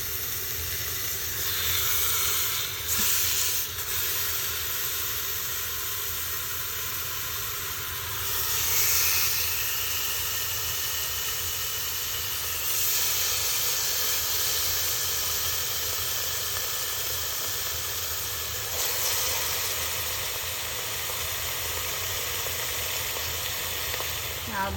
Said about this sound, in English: now you go ahead and braise the pork half side down so that the fat will render